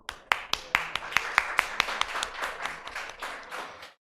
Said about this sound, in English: It deserves a clap.